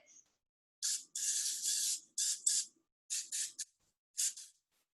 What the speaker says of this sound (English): I'm just going to take some cooking spray and I'm going to lightly grease it.